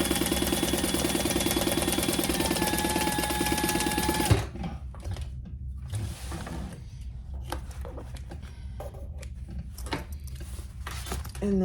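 A sewing machine top stitching 1/8 inch along the edge of a tote bag runs steadily for about four seconds, then stops, leaving soft handling sounds of fabric and the machine.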